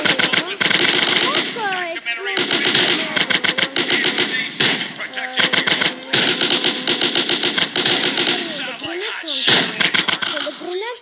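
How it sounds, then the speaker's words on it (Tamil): Rapid bursts of automatic gunfire ring out in a video game, loud and close, as a voice talks over the shooting throughout. "துப்பாக்கி"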